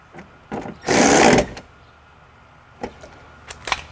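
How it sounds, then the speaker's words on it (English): Nuts being tightened on the window motor mount inside the door of a Hyundai Sonata: a burst of tool noise around one second, with a few short clicks and knocks before and after, close and alone. "I'm gonna tighten the nuts for the electric motor first"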